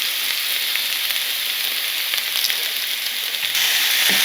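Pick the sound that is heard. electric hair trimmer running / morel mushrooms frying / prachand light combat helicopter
morel mushrooms frying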